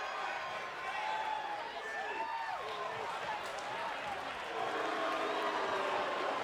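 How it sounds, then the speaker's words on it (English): Crowd noise in the wrestling video game HBW Universe Mode, a steady dense roar of an arena audience that swells slightly toward the end, with music-like tones mixed in. "Did you hear the crowd? Not much of a fan of her."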